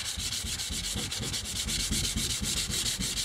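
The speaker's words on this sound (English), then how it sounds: "Just a bit of sanding." Steady back-and-forth sanding strokes rasp against a surface in a quick, even rhythm, close up, with no voices.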